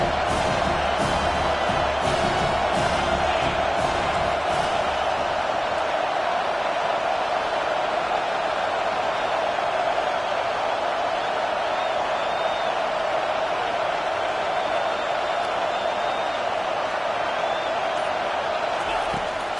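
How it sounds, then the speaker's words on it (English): A loud, roaring stadium crowd cheering nonstop at a College Football 25 video game match, with a sports commentator's voice running over the dense, steady wall of noise. "this crowd is tearing the lid off this place"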